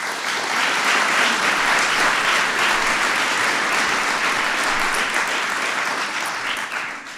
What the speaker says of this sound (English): we want to give him a big round of applause